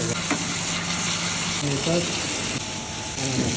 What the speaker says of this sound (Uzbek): Tovuqni qovurib